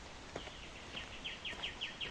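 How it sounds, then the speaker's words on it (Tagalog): Faint, quick bird chirps repeat in a steady series over a constant hiss, distant and thin, in the mountains of Chiang Mai, Thailand. "Puro huni ng ibon. Maririnig namin."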